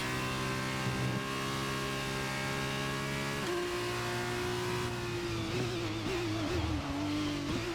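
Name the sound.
race car locking up its tyres, F1 23 video game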